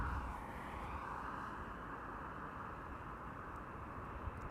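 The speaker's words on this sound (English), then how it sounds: "Finnair to bloody Helsinki will be next to take off. A320, flight 1302." A Finnair Airbus A320 airliner takes off from Amsterdam Schiphol, its distant engine roar a steady, faint broadband rumble with a slowly shifting whine.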